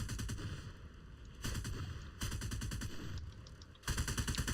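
Aircraft cannons in a War Thunder air battle fire in several rapid bursts, with short pauses between them. The fire is quite faint and sits over steady engine drone.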